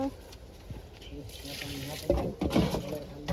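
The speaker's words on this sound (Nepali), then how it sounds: "बिजुली पानी हाल्दैछ।" Water poured onto plants in a rooftop vegetable garden, a splashing trickle that swells toward the end, with voices talking throughout.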